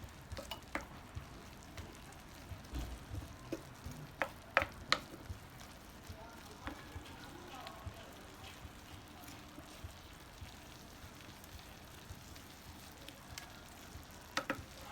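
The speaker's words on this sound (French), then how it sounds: "Ensuite, on ajoute nos épices. On mélange." Spices being stirred into a lamb tajine with prunes and almonds in a pot, faint soft sizzling with scattered scraping and clinking of a utensil against the pot, quiet and close.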